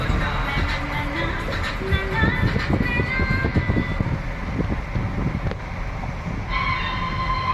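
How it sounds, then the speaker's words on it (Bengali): A train rumbles and clatters nearby at a railway station at night, with squealing metallic tones and a sustained horn-like hum toward the end, voices faintly mixed in. "rail station"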